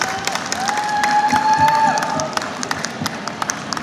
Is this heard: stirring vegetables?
no